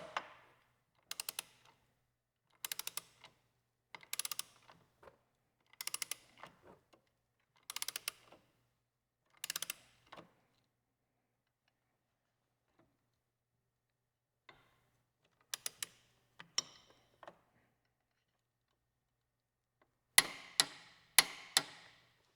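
A torque wrench tightens the slipper clutch nut on a Yamaha R7 motorcycle. Short, close bursts of sharp ratcheting clicks repeat about a dozen times with pauses between, and a louder cluster of clicks comes at the end.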